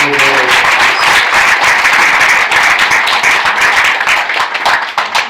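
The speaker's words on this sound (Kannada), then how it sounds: "ಒಂದ್ಸಲಿ ಜೋರಾಗಿ ಚಪ್ಪಾಳೆ ಹಾಕಿ" A large audience at a religious gathering claps loudly and steadily, the dense applause filling the whole stretch and easing slightly toward the end.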